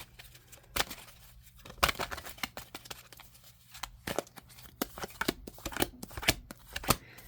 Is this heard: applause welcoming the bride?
no